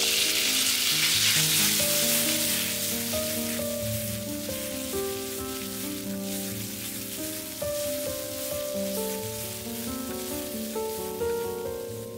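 Pork sizzles and fries steadily in a hot wok during a fresh bamboo stir-fry, with a continuous crackling hiss under prominent background music throughout.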